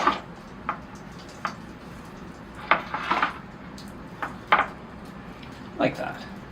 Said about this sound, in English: I'll clean the lip of my pot.